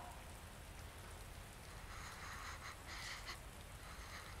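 Rain in the video game Resident Evil 2, a soft, steady hiss of falling rain with light spattering drops, faint and continuous throughout, with no talking.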